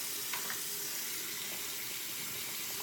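Cold water runs steadily from a bathroom tap during a head shave, a soft continuous hiss and splash at low level with no talking.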